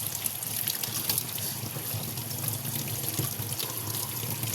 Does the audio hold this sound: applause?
no